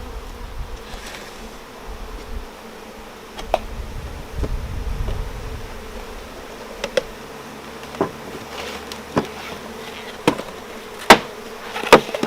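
Steady buzzing of honeybees around a hive feeder with sugar syrup, with scattered sharp taps and knocks breaking through at intervals.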